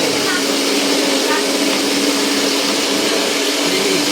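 Kitchen blender whips mayonnaise with oil, running as a loud, steady whirring roar that lasts the full few seconds.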